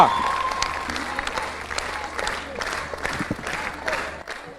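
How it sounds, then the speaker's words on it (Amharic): Warm, sustained applause from an audience at a student quiz competition award ceremony, with clapping that swells and rolls unevenly as a Future Hope secondary school team receives its prize. "ሞቅ ያለ ጭብጨባ ከክቡር ዶክተር ኢንጂነር ሀብታሙ ኢተፋ እጅ ሽልማቱን ይቀበላል።"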